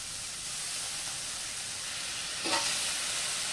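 Freshly boiled pasta goes into a hot pan with some of its cooking water, giving a broad steady sizzle and hiss that flares briefly louder near the end, close up with no talk.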